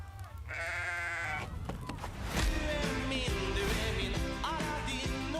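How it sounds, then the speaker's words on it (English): Several goats bleating in a Goat Simulator 3 video game trailer, a wavering bleat followed by overlapping bleats layered over music and game sound effects. "That's a lot of goats."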